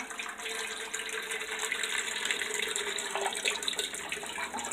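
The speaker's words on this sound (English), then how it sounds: "Just pour it all into your pan like so." Broth pours steadily into a pan in a continuous splashing rush, close and fairly even throughout.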